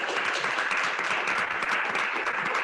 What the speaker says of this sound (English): We are all applauding from around the world as well